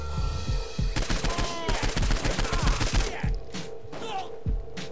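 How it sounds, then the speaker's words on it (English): Rapid bursts of gunfire from the video game Saints Row 4, loud and close with sharp repeated shots packed densely through the middle, thinning toward the end over a steady game background. "Who's shooting at me?"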